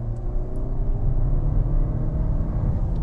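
A Suzuki Vitara hybrid turbo SUV accelerates on a test drive, its engine a steady, low, rumbling drone with whirring road noise, heard from inside the cabin and without talk.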